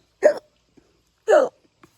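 A reader's voice imitates a monster's hiccups: two short, sharp vocal hiccups about a second apart, close and clear against silence.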